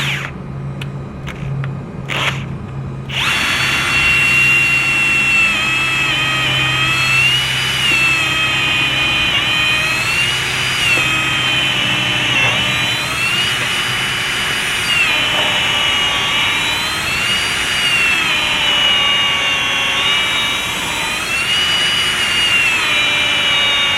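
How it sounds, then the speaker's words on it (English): After a few short taps, a power drill whines steadily and loudly, its pitch wavering slightly as it bores a starter hole into wood for a long stretch. "So we'll take a drill and drill a starter hole."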